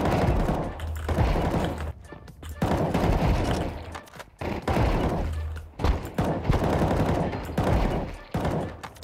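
Gunfire crackles in the video game CS2 as rapid bursts of shots and thuds repeat across several seconds, broken by brief gaps, loud and close with no voices over it.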